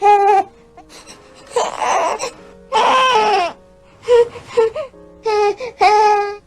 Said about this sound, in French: il y a le son E, qui signifie que le bébé est mal à l'aise.